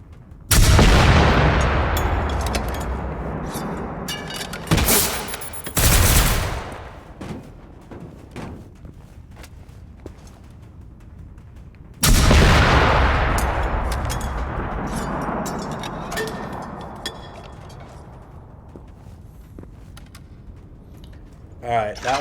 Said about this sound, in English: The experimental shotgun